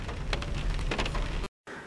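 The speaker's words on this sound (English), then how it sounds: "downtown Rutherford on a rainy day" Steady rain falling on a rainy day in downtown Rutherford, a loud, close, continuous hiss of drops that cuts out briefly near the end.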